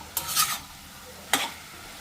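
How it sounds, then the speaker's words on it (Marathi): Mushrooms coated in masala are stirred in a sizzling pan in two brief scraping strokes, close and fairly loud, with a short pause between them and no voices. "आता मस्त मिक्स करून घेऊया. सगळ्या मशरूमला हा मसाला कोट करून घेऊ."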